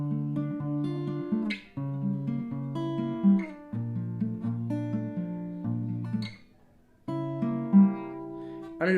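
Fingerpicked acoustic guitar plays the opening verse pattern of a song, with plucked bass notes and paired treble strings in steady phrases, a brief pause near the end, then the pattern resumes.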